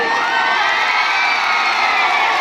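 A huge outdoor stage-show crowd in Kolkata roars and cheers continuously, a dense, loud wash of shouting and whooping voices with no break.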